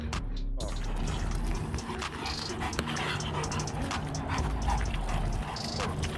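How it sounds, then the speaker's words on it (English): An American Rottweiler pants and whimpers close by, with steady breathing and dog noises over background clatter, and a faint voice in places. "that's Tina, American Rottweiler"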